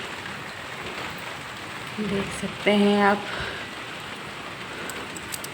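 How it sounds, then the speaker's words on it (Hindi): Light drizzling rain patters steadily on surfaces outdoors in the early morning, a soft continuous hiss, with a woman's brief speech breaking in around the middle. "तो गाइस यहाँ पर हो रही है बारिश, रिम झिम वाली"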